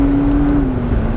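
McLaren 650S exotic sports car engine, a loud, steady mechanical drone that sits close and holds a sustained tone that eases slightly lower near the end, heard alone without any talking.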